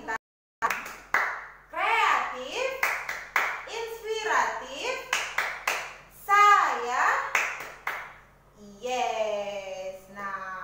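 Kindergarten children clap their hands in sharp rhythmic bursts during a classroom Quran lesson. The clapping alternates with sung or chanted voices of children and a teacher and ends with a sustained sung line.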